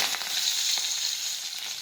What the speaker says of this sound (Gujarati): હવે આપણું તેલ છે તે ગરમ થઈ ગયું છે હવે આપણે તેમાં રાઈ અને જીરું નાખીશું